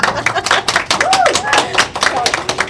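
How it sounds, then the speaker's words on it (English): Meeting attendees clap briefly in a small room, a sparse patter of hands with distinct individual claps mixed with talking voices. "I think that deserves an applause."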